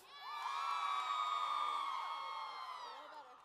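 A large crowd at Murray State University's All Campus Sing cheers and shouts to vote for a song, a loud, steady roar of whoops and yells that swells and then slowly fades.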